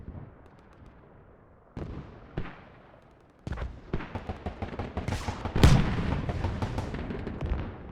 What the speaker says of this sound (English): And that is good mortars on that northeast corner of the objective.